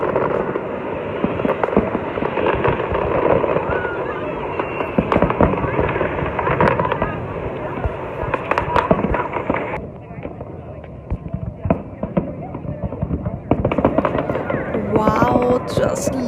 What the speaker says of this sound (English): The lights from the fireworks reflecting to the water, and the whole scene felt magical.